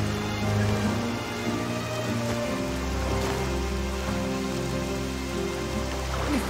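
Rain falls in Octopath Traveler 2, a loud, continuous wash of drops with a low rumbling bed beneath, unbroken by any voices.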